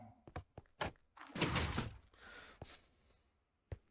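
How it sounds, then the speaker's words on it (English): In Minecraft, a sculk sensor fires, then a door opens and shuts: a run of soft thunks and taps, a louder sliding, rushing swell in the middle, then a few more knocks with a final sharp clack, all fairly quiet. "You can hear the skulk sensor go off, the door opens, and he's just barely able to make it inside before it shuts again"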